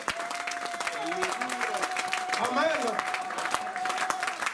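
A church congregation applauding steadily, a dense wash of clapping throughout with voices calling out over it, including a brief spoken word.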